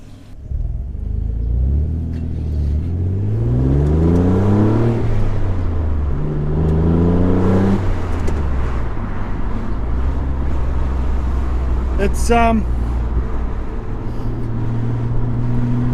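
Car fitted with an aftermarket exhaust on a road drive, heard from inside with the window down: a steady low engine rumble rising and falling through gear changes, fairly loud throughout, with a short spoken word near the start.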